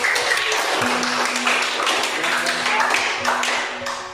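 Classroom pupils clap their hands together in a steady, dense patter of many hands that carries on for several seconds before tapering off near the end.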